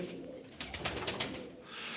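Purebred Sivas pigeons give a quick run of five or six soft, close coos in a tight, even rhythm, each note clipped and distinct against a quiet background.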